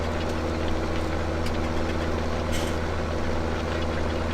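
A tractor engine idles steadily in the farming game Farming Simulator 17, a continuous low rumble at even loudness with no clear change through the whole stretch.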